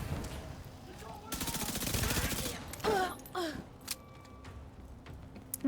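A minigun firing in a video game, a dense buzzing stream of rapid shots for about a second and a half, then scattered impacts and gasping, groaning character sounds.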